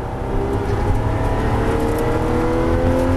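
A Porsche GT3 accelerating hard on the Circuit JP Beltoise race track, a loud, close, continuous engine roar climbing steadily in pitch with no voices over it.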